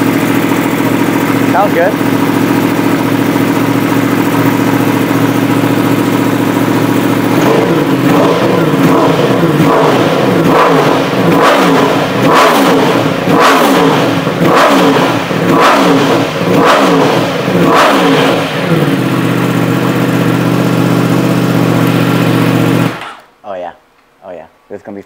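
Yamaha R1M motorcycle fitted with an Akrapovic titanium exhaust, cold-started and revved: a loud steady idle broken by a run of sharp throttle blips in quick succession, with brief talk over it before the engine cuts off.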